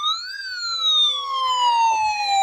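A toy fire truck sounds its electronic siren, a steady, loud, wailing tone with bright harmonics that glides slowly downward, heard up close with no talking.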